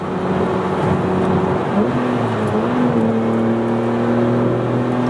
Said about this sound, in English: now it sounds like a actual exhaust, like a proper exhaust